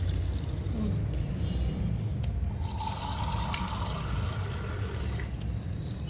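Tap water runs steadily into a container outdoors while sand is being built into a fort, a continuous close splashing stream lasting throughout with no talk.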